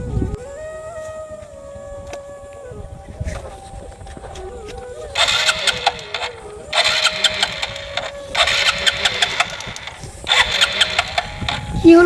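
A motorcycle engine is cranked over and over but fails to catch, sputtering in short bursts with rising whines between attempts, close by and loud.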